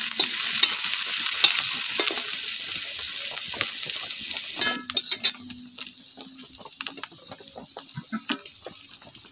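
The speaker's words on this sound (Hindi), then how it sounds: "तेल डालने के बाद अभी प्याज डालेंगे।" Onion drops into hot oil in a pan and fries with a loud, dense sizzle that settles into a quieter crackle, punctuated by stirring clicks.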